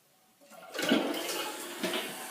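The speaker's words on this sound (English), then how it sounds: "So this is the first flush, and before I flush it, you see there's a new technology in here." A newly installed toilet with a piston-engine flush mechanism is flushed for the first time, a fast, close, rushing gush of water that swells quickly and keeps draining steadily.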